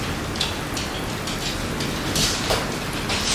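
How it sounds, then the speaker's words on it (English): Heavy rain pours steadily outside, a dense broadband hiss with scattered brighter drop patters, fairly loud and continuous with no voices. "it is really raining out there now"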